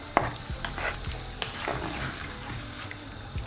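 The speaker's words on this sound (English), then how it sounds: "Give that a mix and bring the sauce to simmer." A utensil scrapes and stirs sweet and sour sauce with vegetables in a pan as it comes to a simmer. Several distinct strokes sound close and clear over a low, steady bubbling hiss, with no talking.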